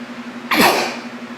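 A single sharp sneeze bursts out close by over a low steady hum.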